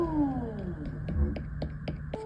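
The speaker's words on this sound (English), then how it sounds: "if I tap it and it makes a higher pitch like this," Fingers tap the thinned base of a clay bowl several times in an even rhythm, each a short, crisp, higher-pitched tick heard close up over a steady low hum.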